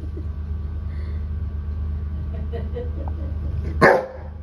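A Rottweiler barks at a baby's toy, one loud close bark near the end after a stretch of quieter low growling and household noise, with people talking in the background.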